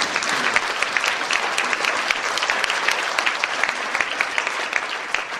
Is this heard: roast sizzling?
no